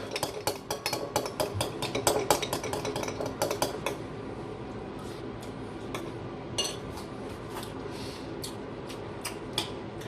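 A drink with gin is stirred in a glass, bursts of quick clinking and rattling strokes close by for several seconds, then thinning to sparse clinks over a quiet background.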